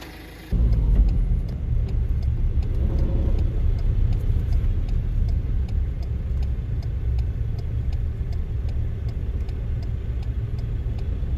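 A damaged off-road car with brake trouble limps to a garage near Tham Lod Cave, its engine starting abruptly and then rumbling steadily and loudly close by, with no talk.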